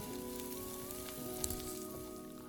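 Garlic sautés in the oil left over from frying shrimp, a faint, steady sizzle sitting quietly under a sustained tonal background throughout.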